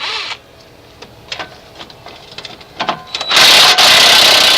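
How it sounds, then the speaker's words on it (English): A wrench works the lower shock bolt on a 1989 Chevy K1500 Silverado, first with scattered close clicks and knocks, then a sudden loud, sustained harsh burst of tool noise. "Remove the lower shock bolt with an 18mm."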